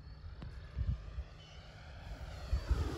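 A Freewing 90mm F-22 RC jet on 6S power flies past, its electric ducted-fan whine rising and falling as the throttle changes, with a few low wind thumps at the microphone.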